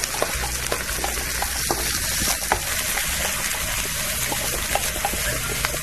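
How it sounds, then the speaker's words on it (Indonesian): Garlic and shallots sautéing in oil for a catfish mangut, a close, steady frying crackle with intermittent stirring scrapes and no talk. "Ya, kita tumis dulu bawang putih dan bawang merah masukinnya."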